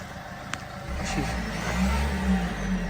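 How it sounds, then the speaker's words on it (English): A cheap second-hand car's engine starts and revs up, a steady mid-pitched drone swelling and holding close by, with a faint click beforehand. "Cadian's going to get in and give it a little rev."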